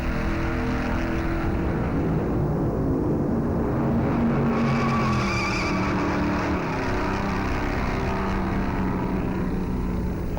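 Stock cars racing at the Darlington Southern 500 make a dense, continuous engine roar, with several cars blending into one loud, rumbling drone that swells slightly midway as they pass.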